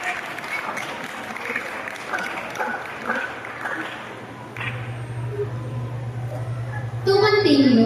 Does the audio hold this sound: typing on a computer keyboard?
no